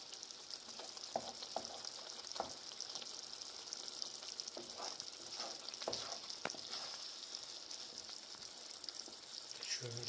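Eggs and vegetables for menemen fry in a pan while being stirred, a continuous soft crackling sizzle broken by occasional spoon clicks and scrapes, close and steady throughout.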